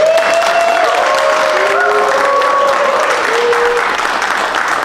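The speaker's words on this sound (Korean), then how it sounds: "우리 리더분들을 위해서 큰 박수 부탁드립니다." Warm, sustained applause fills a church hall as a crowd claps for the table leaders at a Fatherwise graduation ceremony, dense and even throughout with a few faint voices underneath.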